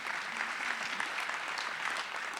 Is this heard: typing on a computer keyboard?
no